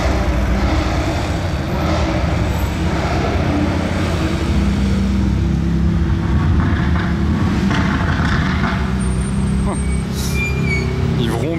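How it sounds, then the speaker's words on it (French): A supercar's V8 engine rumbles steadily in a street blocked by supercars during a rally, a loud continuous low drone with passing traffic and crowd noise, while people talk nearby. "j'entends un V8."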